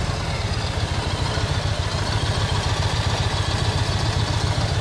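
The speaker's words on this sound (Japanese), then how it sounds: "エンジン音聞かせてもらえますか？" A 2004 Kawasaki Ninja ZX-10R with an aftermarket exhaust idles up close, giving a steady, even, pulsing rumble that stays loud and constant throughout.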